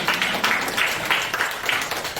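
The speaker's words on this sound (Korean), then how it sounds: "김민희 사모님, 박수 한번 보내주십시오." At a women's Christian prayer service in the National Assembly building's basement hall, a small gathering claps for a pastor's wife, with steady, moderately loud applause and slight rhythmic pulses throughout.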